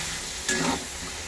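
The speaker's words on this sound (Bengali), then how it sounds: "চিকেন রান্না করছি" Chicken cooking in a home kitchen pan gives a steady, close sizzle, with a brief louder stirring scrape near the middle of the short stretch.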